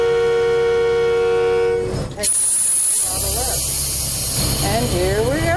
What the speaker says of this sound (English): Honk the horn to let people know we're coming.